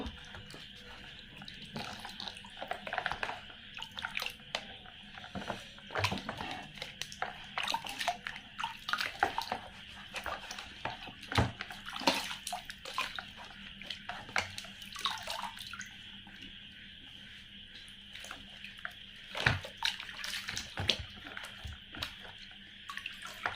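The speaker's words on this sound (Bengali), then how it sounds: "ও, এটি একটি ডোল মানে পুতুল গোসল করছে।" Water runs and splashes steadily as a toy doll is bathed, with intermittent drips and light knocks of handling over a continuous faint wash of flow.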